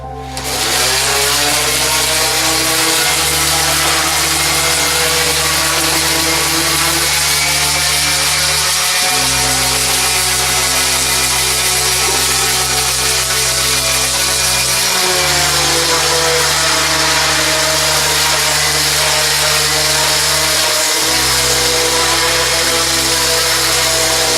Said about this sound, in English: I'm going to do some sanding